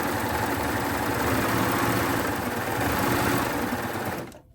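An overlocker sewing machine runs with no fabric under the foot, making a steady, fast mechanical whir and rattle up close for several seconds before it stops abruptly.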